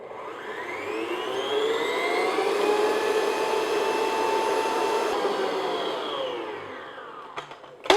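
A handheld electric mixer beats orange madeleine batter in a bowl, a steady loud whirring drone with gently shifting pitch for several seconds before a brief knock at the end.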